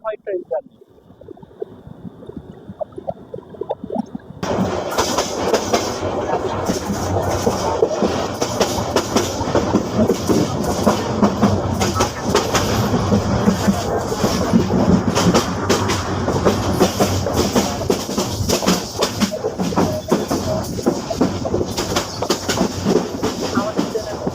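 The Sundarban Express passenger train, running from Dhaka to Khulna, rumbles and clatters loudly along the tracks in a steady, dense roar that starts suddenly after a quiet opening and continues throughout.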